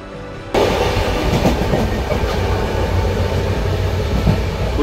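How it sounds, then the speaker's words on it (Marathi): A sleeper train runs on rails. After a quiet half-second opening, a steady, loud rumble with rhythmic wheel clatter takes over and continues, heard from inside the carriage. "झोपायची ट्रेन आहे।"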